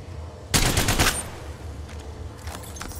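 A loud burst of rapid automatic gunfire erupts in Apex Legends Mobile, lasting about half a second, followed by fainter scattered distant shots.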